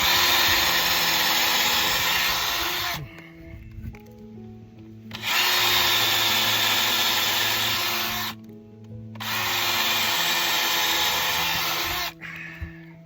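A power drill whines loudly in three long bursts separated by short quiet pauses, running steadily through each stretch, boring into hard material while roofing a cattle feeder.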